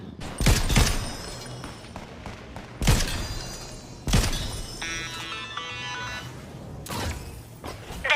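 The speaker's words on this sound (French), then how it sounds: "Prenez une arme et tirez sur les cibles que j'ai installées sur les rails de glisse." Video game gunfire at targets set up on slide rails: several sharp, separate shots spaced a second or two apart, with ringing metallic impacts and a short burst of clinking between them.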